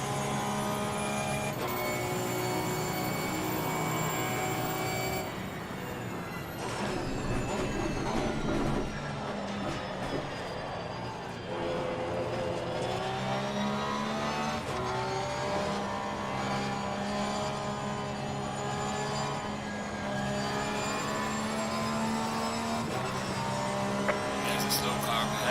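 A race car engine in a racing video game drones with shifting, rising and falling pitch as it closes in from behind, a steady mechanical hum with gear changes, while someone talks over it.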